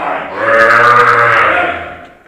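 A loose cow gives one loud, close moo lasting about two seconds, rising and then trailing off.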